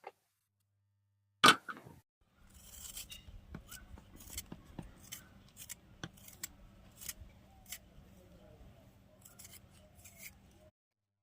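Potatoes being peeled by hand for homemade chips, giving a run of soft, close scraping and clicking strokes at an irregular rhythm over a low steady hum, after one sharp knock near the start.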